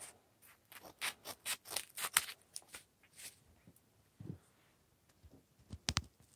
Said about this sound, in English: Just clip it in the middle, snip it in the middle